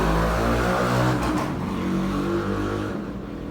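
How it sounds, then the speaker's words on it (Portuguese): A powerful motorcycle passes on a street with a loud, broad engine roar that holds for a few seconds and then begins to fade as it moves off. "Passando uma moto aí bastante potente aqui na rua."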